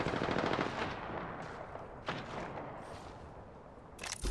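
Video game gunfire opens with a loud rapid burst, then gives way to scattered single shots and echoing reports, ending on a sharp crack.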